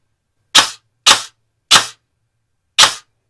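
An airsoft gun fitted with a budget T238 brushless motor fires sharp single semi-auto shots, four clean cracks spaced unevenly in quiet surroundings, loud and close with no voices.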